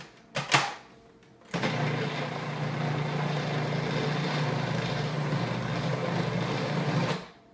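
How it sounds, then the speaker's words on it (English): A food processor pulses dough with orange zest, starting with a few short clicks and then one continuous loud whirring burst of about five seconds that stops abruptly. "just pulse this up until it forms a ball"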